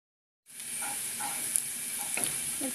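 Chicken and spices, including garam masala powder, frying in a pan for chicken yakhni pulao, with a steady close sizzle that starts abruptly and carries on alone with a few faint clinks.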